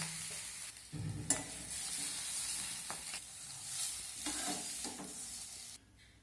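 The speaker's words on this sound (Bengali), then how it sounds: "আলুগুলোকে আমি প্রায় মিনিট 3-4 নেড়ে চেড়ে ভেজে নিয়েছি" Boiled potatoes stirred and fried in a wok, a continuous bright sizzle broken by several spatula scrapes and knocks, close and fairly loud, fading out at the very end.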